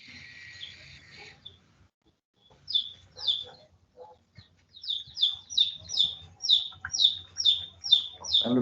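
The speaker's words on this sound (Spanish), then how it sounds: "Están los pajaritos que suenan por allá." Small birds chirp from a distance in repeated short tweets, sparse at first and then a steady run of calls toward the end, with faint room noise underneath.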